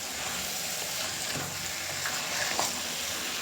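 Gongura mutton frying in a pan, a dense, close, even sizzle with a couple of light stirring scrapes.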